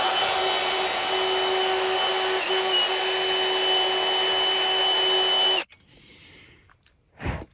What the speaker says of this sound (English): I'm just going to drill it.